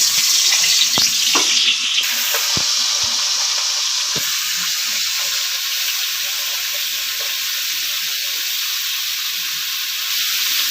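Amudi fish fry in hot mustard oil in a pan with a loud, steady sizzle and hiss, broken by a few sharp pops and spatters.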